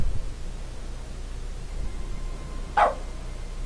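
A single bark from a dog in The Stanley Parable video game, one short clear burst near the end over a steady hiss of background noise.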